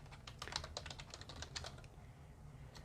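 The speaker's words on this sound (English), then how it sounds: "Let me type here" Fingers type on a computer keyboard, giving a quick run of soft, faint key clicks followed by a short pause and one last tap.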